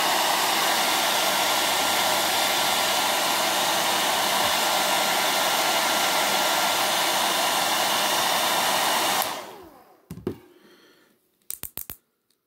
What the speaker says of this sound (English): So we're going to hit with the hair dryer again.